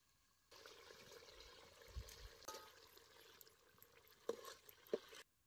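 Masala sizzles faintly in oil in a pot over a wood-fired chulha while a country-chicken rassa is being made, with soft steady frying and a few sharp scraping clinks of a spoon stirring against the pot.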